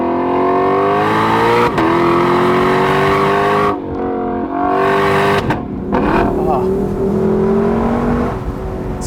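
A 2021 Lexus LC500's naturally aspirated V8 revs hard in sport mode: a loud, close, harmonically rich roar climbs and dips through the gears, with brief lifts between pulls.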